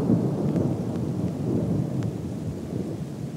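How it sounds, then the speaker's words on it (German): Thunder from a lightning strike on a nearby antenna during a storm high on a tall tower rolls as a loud, continuous low rumble under steady rain hiss. "In die Nachbarantenne ist gerade ein Blitz eingeschlagen. Es hat richtig geknallt."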